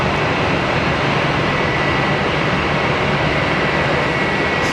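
Cessna Citation jet at Geneva Airport, a loud, steady broadband roar of jet engine noise holding constant without any talk.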